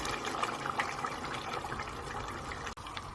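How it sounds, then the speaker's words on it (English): Coconut milk pours into a pot of Thai beef yellow curry with a continuous close liquid gurgle and trickle that runs throughout, broken by one brief dip near the end. "So the coconut milk goes in next."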